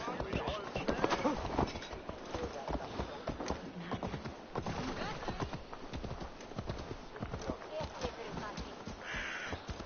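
Rhythmic clip-clop of a horse's hooves trotting along in Assassin's Creed Valhalla, with crows cawing in the background and occasional game ambience.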